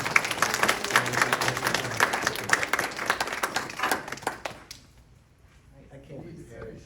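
An audience claps after a lecture on pruning in Japanese gardens: dense, sustained applause for several seconds with voices mixed in, then it fades quickly to near silence.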